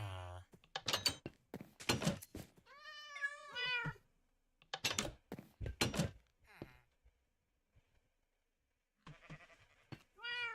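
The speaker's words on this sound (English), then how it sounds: "May as well tame that little brown and white cat." A small brown and white cat in a clay-styled video game gives a run of clear, drawn-out meows, several in close succession and then one more after a pause, loud and near against quiet game sounds.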